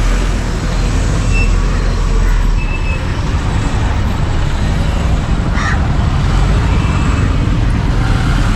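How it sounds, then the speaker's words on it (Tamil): Heavy road traffic on a busy street in Colombo, Sri Lanka: a steady, loud rumble of buses, trucks and cars passing close by, continuous throughout with no clear speech. "அது அந்தளவுக்கு டிராஃபிக்காக இருக்குது."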